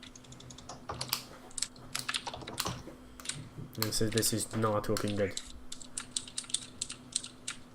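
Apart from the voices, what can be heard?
typing on a computer keyboard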